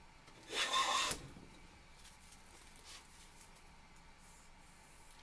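A refurbished wooden jointer plane takes a single shaving stroke across a board: one brief, airy, rasping swipe, then near-silence with faint room noise.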